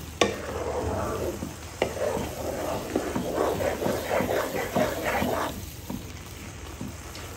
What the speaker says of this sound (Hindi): इस तरह से जब ये बॉईल होना स्टार्ट हो जाएगा इसका मतलब ये है कि हमारा घी बनना स्टार्ट हो चुका है